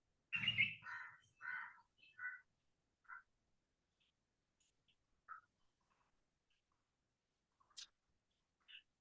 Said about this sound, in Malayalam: കിളികളുടെ ഒക്കെ സൗണ്ട് ഉണ്ടോന്നേ